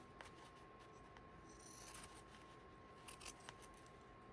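Scissors snipping through fabric mesh at a craft table, a few quiet crisp cuts in a short cluster amid faint room hiss, with no talking.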